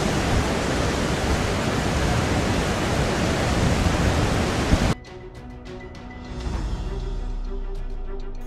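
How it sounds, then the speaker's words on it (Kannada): Water from the Tungabhadra dam gates thunders in a dense, roaring torrent for about five seconds, then the sound cuts to a quieter, more distant rush of flowing water with scattered small splashes. "ಡ್ಯಾಂನಿಂದ ಅಪಾರ ನೀರು ಹೊರಕ್ಕೆ"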